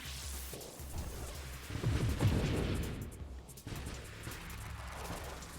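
Splinter missiles firing in Nova Drift, a steady low rumbling barrage of soft bursts and whooshes that swells in the middle and keeps rolling throughout at moderate, muffled volume.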